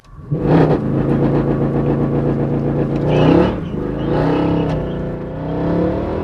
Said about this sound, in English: And some wheel spin.